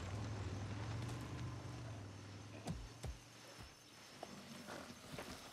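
Horse hooves clip-clop in the Far Cry 6 game world, a few distinct thudding steps standing out over a loud rumbling background of engine-like drone and ambient noise.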